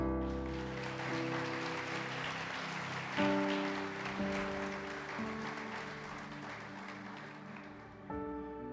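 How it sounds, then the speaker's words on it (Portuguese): A church congregation applauds with raised hands, a sustained wash of clapping beneath sustained keyboard chords, holding steady before easing off toward the end. "Você pode levantar suas mãos e aplaudir o Senhor?"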